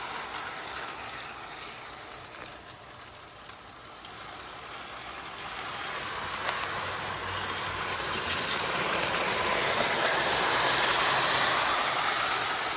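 A Lionel NYC Flyer toy train set runs on its track, a steady close rattling rumble that slowly builds louder over time, with no talking.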